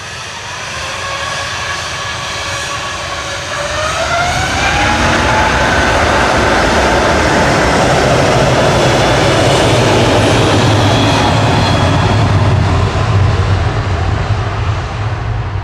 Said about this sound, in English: GVRPD departing now to Orlando with Flight 73 for Virgin A350-1000